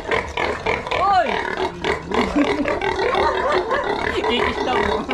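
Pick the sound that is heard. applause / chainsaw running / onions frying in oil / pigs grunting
pigs grunting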